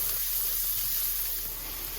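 Onions sizzle in butter in a pan, making a steady, soft hiss that stays even and close throughout with no talking.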